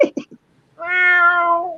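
A cat meows for attention with one long, drawn-out, close meow, preceded by a few brief voice sounds.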